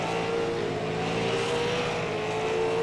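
Late model stock cars racing at speed around Langley Speedway, a constant dense engine roar at steady volume with no break, heard from trackside.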